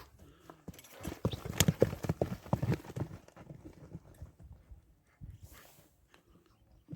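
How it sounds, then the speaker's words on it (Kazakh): Karabair horses ridden at a gallop in Özgön, hooves clip-clopping in a rapid, uneven rhythm that peaks then fades as the horse moves away, with a few faint calls nearby. "Мынакей атты азыр дагы бир, бул жака дагы бир чабып койчу."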